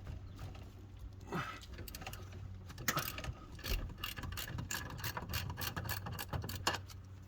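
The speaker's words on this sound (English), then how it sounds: "Now let's loosen one of the bolts on the brake booster stud" A ratchet works a bolt on the brake booster stud of a Ford F-150, making quiet bursts of quick clicks in irregular spurts over a low background hum.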